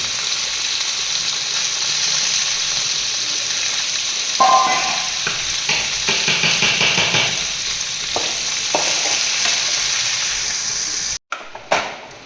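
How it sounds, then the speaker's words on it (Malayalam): Cashews and raisins fry in hot fat for semiya payasam, making a loud, continuous sizzle close by. Scattered clinks and stirring scrapes come through in the middle, and the sound cuts off briefly near the end. "അണ്ടിപ്പരിപ്പ് മൂത്ത് വന്നിട്ടുണ്ട്. നേരത്തെ കഴുകി വച്ചിരിക്കുന്ന മുന്തിരി ഇട്ട് കൊടുക്കാം."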